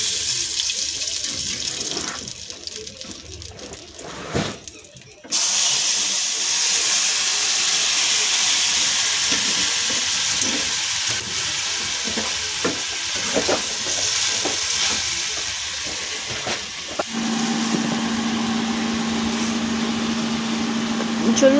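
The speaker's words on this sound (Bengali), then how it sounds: "সম্বরা দিয়ে নিচ্ছি।" Spices tempering in hot oil for a vegetable curry, a loud continuous sizzle that swells sharply and settles into steady frying crackle, with scattered clinks of stirring.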